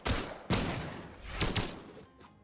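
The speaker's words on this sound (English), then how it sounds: "physeK already on the ledge and getting pelted by these bullets" Bursts of gunfire from bullets in a Brawlhalla match, several sharp rapid volleys in quick succession, loud and close, with no talking over them.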